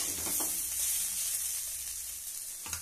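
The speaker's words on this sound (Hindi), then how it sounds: "आज फूलगोभी आलू का फ्राई बना" Cauliflower and potato frying in a pan, a steady loud sizzle heard close up, with faint stirring sounds near the start and end.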